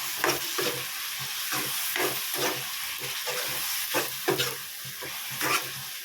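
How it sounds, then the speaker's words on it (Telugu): Tomato pieces with salt and turmeric being stirred in a hot pan for tomato charu, a soft continuous sizzle broken by rhythmic scraping strokes of a spoon, close and without talk. "టమాటా ముక్కల మీదనే అలాగే పసుపు ఇవన్నీ వేసి ఒకసారి మళ్ళీ కలుపుకోవాలి"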